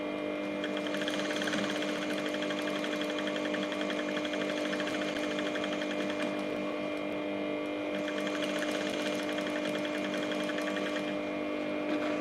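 A sewing machine hums continuously at a steady, even pace while stitching a sleeve, a close mechanical drone with a faint rhythmic chatter throughout, with no talk.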